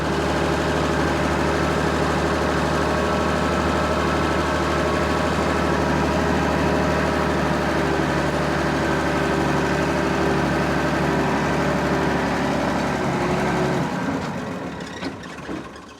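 Farm tractor pulling a seeder sits idling with a steady, loud low rumble that holds evenly, then drops and fades near the end, with no voices.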